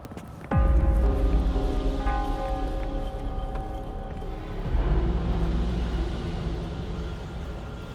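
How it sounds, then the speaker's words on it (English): Heavy rain in Wuthering Waves, a dense continuous hiss that starts abruptly and stays loud, with a tonal hum and faint ambient layers underneath, swelling briefly midway. "But the rain's getting heavier."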